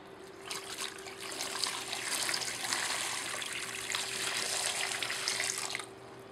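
Water pours and trickles steadily through a small drainage flooding model of a street with houses, a close, continuous splashing flow that runs for several seconds and then cuts off. Nobody speaks.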